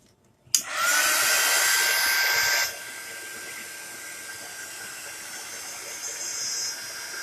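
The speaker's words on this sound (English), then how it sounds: "I'm using my heat gun away from the design transfer" A heat gun blows hot air over a chalk paste design transfer, switching on with a click and roaring loudly for about two seconds before dropping to a quieter, steady whoosh that carries on to the end.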